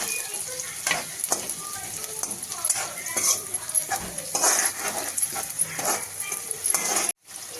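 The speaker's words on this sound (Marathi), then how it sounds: "त्याच्यातच छान परतल्या जाते हिरवी मिरची" Onion and green chilies sizzle in a pan while poha is being made, a steady frying hiss with occasional stirring scrapes. A voice talks over the cooking throughout, and the sound cuts off abruptly near the end.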